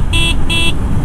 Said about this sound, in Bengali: এবার একটু হর্নের ব্যাপারে আসি